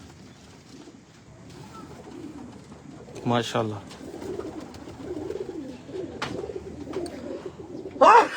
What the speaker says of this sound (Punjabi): ਲੇਕਿਨ ਦੇਖ ਲਓ ਬਟੇਰੇ ਕਬੂਤਰ ਆ